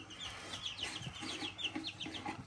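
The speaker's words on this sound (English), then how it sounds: "we have had these chicks for two weeks" Young chicks about two weeks old chirping close by, a busy overlapping chorus of short high peeps repeating throughout with a few soft lower clucks beneath.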